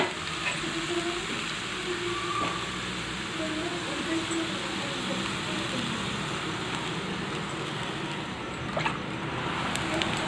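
Red amaranth greens frying in a pan, a constant loud hiss of sizzling with faint clinks, and a voice talking over it.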